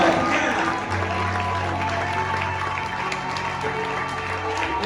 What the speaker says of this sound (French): Est-ce qu'on peut acclamer notre...